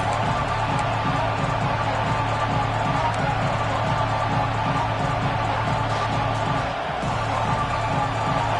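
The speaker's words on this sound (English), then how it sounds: "Man, this crowd really affecting the football." A home stadium crowd in the college football video game CFB26 produces a dense, steady roar that holds at an even loudness throughout, without distinct cheering peaks.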